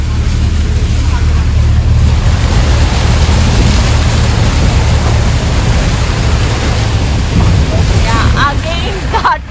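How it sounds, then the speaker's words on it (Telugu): A jeep drives through water on a ghat road near Dudhsagar waterfalls in Goa, giving a loud, continuous rushing wash of water and engine rumble with wind buffeting throughout. "చూడండి వాటర్ లో వెళ్తుంది అనమాట జీప్"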